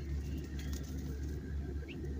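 Pure white pigeons coo in a low, rhythmic murmur, a steady soft throbbing close by with faint background noise and no voices.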